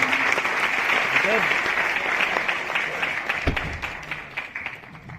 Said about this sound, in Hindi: इनके लिए जोरदार तालियां हो सकती हैं।